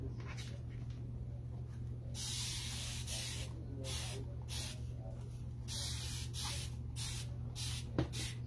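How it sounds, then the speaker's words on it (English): Water from a sink tap sprayed over a chalkboard transfer sheet, wetting the adhesive side, a soft hissing spray in repeated bursts of a second or so, close and fairly quiet over a low steady hum. "So I'm wetting the adhesive side, and then I'm going to flip this over and wet the front of it."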